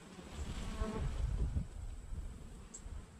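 Honeybees buzz around a hive after a tropical storm, a steady, fairly close insect hum with low rumbling texture and no talk.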